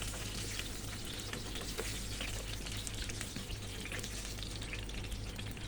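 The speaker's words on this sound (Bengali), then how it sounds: "উল্টিয়ে পাল্টিয়ে আমি পটলগুলো ভেজে নিয়েছি" Pieces of pointed gourd (potol) fry in a pan of oil, a dense, even sizzle and fine crackle that holds steady and close without a break, with no one talking.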